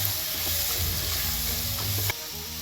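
Sliced onions fry in hot oil for tomato rice, a dense steady sizzle with soft spatula scrapes as they are stirred, easing slightly just before the end.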